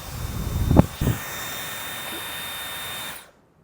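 A Dyson hair dryer runs with a steady high-pitched whooshing airflow and thin whine, opening with a couple of bumps of handling before holding constant and then cutting off abruptly.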